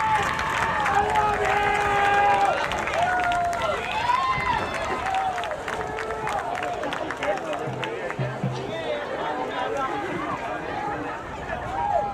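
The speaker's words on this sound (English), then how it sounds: "So definitely a large Safford crowd here tonight to support their team" A large high school football crowd roars and cheers continuously as the home team runs onto the field at a night game, with an announcer talking over the steady crowd noise.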